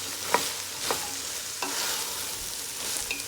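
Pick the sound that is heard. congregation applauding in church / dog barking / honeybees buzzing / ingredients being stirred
ingredients being stirred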